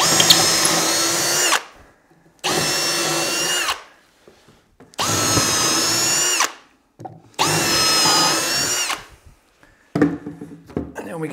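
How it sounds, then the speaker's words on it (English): A power drill drilling pilot holes in wood runs in four steady, loud bursts of about a second and a half each, separated by short pauses, followed by a few clunks. "Next we can drill our pilot hole."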